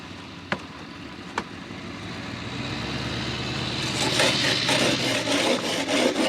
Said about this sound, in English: I'll grab my ice scraper and we'll scrape these off a little bit at least.